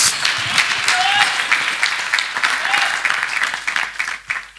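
A church congregation claps loudly and continuously during a worship service, with dense sustained applause, a few voices calling out over it and the clapping thinning toward the end.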